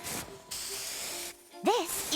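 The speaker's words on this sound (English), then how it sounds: "One spray to victory, Fluffy Tail Hairspray." Fluffy Tail Hairspray hisses from a can in the video game Neverness to Everness, in two bursts of steady close spray separated by a short pause, followed by a brief voice.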